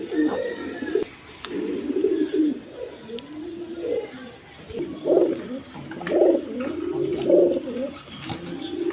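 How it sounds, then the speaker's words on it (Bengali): A pair of Kaldom pigeons cooing near at hand, repeated low throaty coos rising and falling in rhythmic bursts, clear and fairly loud against a quiet background. "এখানে এক পেয়ার কালদম কবুতর নিতে পারবেন"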